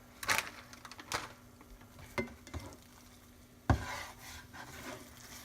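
Scrambled eggs with cheese are stirred in a pan, a utensil scraping and tapping against the pan in scattered strokes over a faint sizzle, close and fairly quiet.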